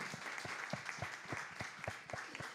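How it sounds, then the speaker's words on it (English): Brief round of audience applause at a breakfast seminar, a modest group clapping with individual claps distinct against a soft, fairly quiet room. "Quick round of applause."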